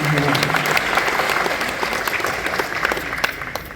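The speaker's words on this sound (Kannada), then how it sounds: "ಒಂದು ದೊಡ್ಡ ಚಪ್ಪಾಳೆಯೊಂದಿಗೆ ಅಭಿನಂದನೆ" A crowd at a public event in Hassan honouring the Rangasiri troupe breaks into sustained applause, many hands clapping densely and loudly, with a brief trace of voices at the very start.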